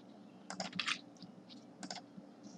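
Someone types on a computer keyboard in a quiet room, producing a short flurry of crisp key clicks in two quick clusters with scattered single taps after them.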